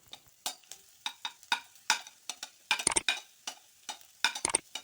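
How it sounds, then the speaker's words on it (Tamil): Chopped large onions frying in a pan with ginger, garlic and green chilli, a steady quiet sizzle broken by frequent sharp scrapes and clinks of a spoon stirring against the metal, close and without talk. "இப்போ இந்த டைமில் நீங்கள் கட் பண்ணி வச்சுக்கிற பெரிய வெங்காயம் சேர்த்திக்கோங்க."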